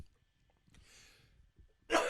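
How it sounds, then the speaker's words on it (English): A single sharp sneeze bursts out near the end, loud and close, after a quiet stretch with a faint breathy intake. "excuse me, I have to sneeze."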